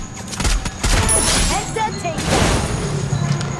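Gunfire in the mobile battle royale game Free Fire, several loud shots and bursts in quick succession over busy in-game noise.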